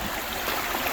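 Creek water flowing near a small waterfall on a wooded Ozark hiking trail, a steady broadband rush that stays even and moderately close throughout, with no voices.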